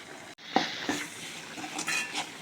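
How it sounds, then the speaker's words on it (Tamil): Chili powder and coriander powder are sautéed in a pan for a cowpea curry, with a spoon scraping and tapping the metal in short strokes over a faint sizzle. "பொடியெல்லாம் போட்டு நல்லா வதக்கியாச்சு."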